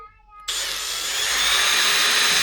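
A power drill bores a very small, shallow hole for a latch on a camping drawer in a Land Rover Discovery 3, starting abruptly and holding a loud, steady high whine close by.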